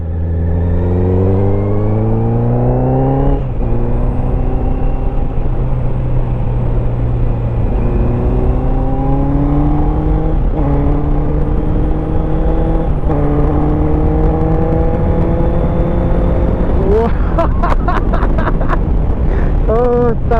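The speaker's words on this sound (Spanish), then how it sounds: "Por fin una de 4 cilindros en el canal." A four-cylinder Honda CB650R motorcycle engine with a full exhaust system revs steadily, its pitch climbing and dropping in repeated sweeps, loud and close, with sharp blips near the end.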